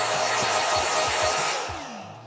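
A Xiaomi Deerma DX888 vacuum cleaner runs close by with a loud, steady airy whir and soft low thumps, tailing off slightly at the end.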